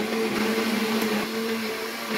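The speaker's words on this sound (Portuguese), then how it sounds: "Vamos ligar o nosso liquidificador." A kitchen blender grinds corn with a steady, loud motor whine that holds an even pitch throughout, with no voices.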